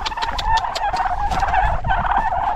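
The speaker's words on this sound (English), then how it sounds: "Turkey, turkey, ready to eat?" Several turkeys gobble in a steady chorus of repeated rattling calls at close range, with overlapping birds keeping the sound going throughout and no talking.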